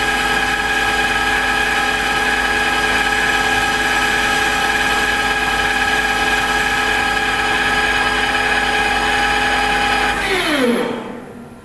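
A metal lathe or milling machine cuts steel while making a dead-length bullet seating die, giving a loud, steady high-pitched machining whine for about ten seconds before winding down and stopping.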